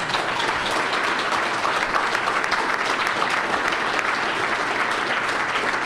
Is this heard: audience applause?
yes